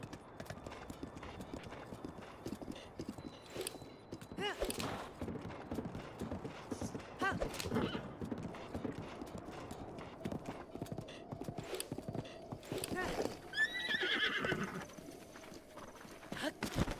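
A horse in the Zelda: Breath of the Wild video game clip-clops along steadily at close range, its hooves beating a continuous rhythm, with a short neigh near the end.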